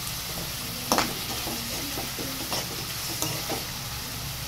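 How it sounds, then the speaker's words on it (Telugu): Onions with rock salt fry in a pan for prawn curry, a continuous close sizzle broken by a few sharp utensil clinks and scraping stirs, no voices. "ఉల్లిపాయలు గోల్డ్ కలర్ వచ్చే వరకు వేయించుకోవాలి"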